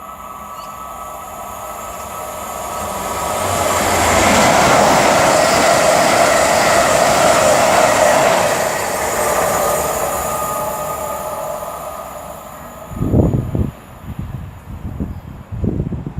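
An Avanti West Coast Class 390 Pendolino, unit 390013, passes at Nuneaton on the West Coast Main Line. Its roar swells to a peak midway and fades, followed by a few sharp clunks as it clears.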